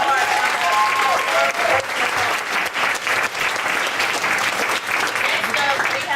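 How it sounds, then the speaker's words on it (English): Sustained, steady audience applause at a poetry night, dense and loud throughout with some voices mixed in. "I want everybody to give her another round of applause"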